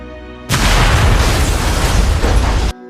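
Bomb attack striking a family home in Sokovia in the WandaVision series, a sudden, very loud blast that roars as a dense sustained rumble for about two seconds, then cuts off sharply.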